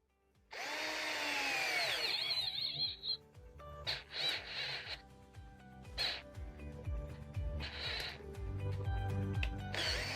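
A Titanium 12V cordless drill-driver spinning a drill bit, a high motor whine starting abruptly, then intermittent bursts of drilling with rattling and clicks, close and fairly loud.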